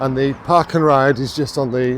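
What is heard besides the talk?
No everyday noise stands out behind the speech.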